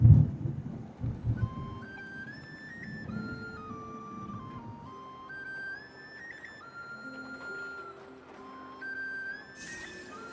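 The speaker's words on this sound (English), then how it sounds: "I think that was the first time I've seen lightning that close. It is thunderous where I'm at." Thunder from a nearby lightning strike rumbles low and heavy in a game storm, loudest for the first couple of seconds before fading away. Gentle melodic tones carry on above the dying rumble.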